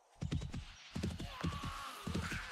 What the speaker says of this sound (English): This is a tamed horse.